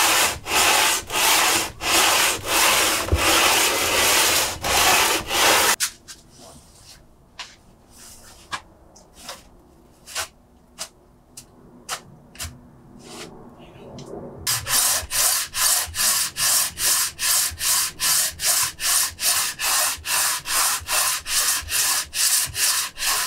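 Car cylinder head from a MK2 Golf GT being hand-sanded with finer grit abrasive, steady rhythmic back-and-forth rasping strokes, loud at first, then a quieter stretch of sparse scrapes before the vigorous strokes resume.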